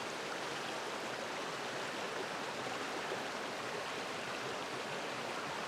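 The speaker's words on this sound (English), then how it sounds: "surplus water will spill out the bottom down there, and already is" Surplus creek water spills out the bottom of a Gold Rush Nugget Bucket while prospecting on Las Huertas Creek, making a steady, even rushing splash with no pauses.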